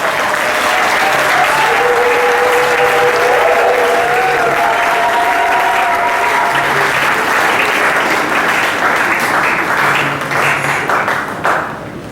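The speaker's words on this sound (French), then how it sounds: "Apparemment, on a applaudi, non?" A church congregation applauding, loud sustained clapping from many hands filling the room, with a faint tone running underneath before it tapers off near the end.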